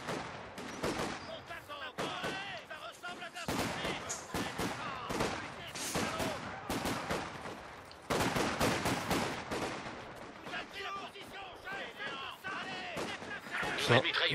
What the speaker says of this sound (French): La mitrailleuse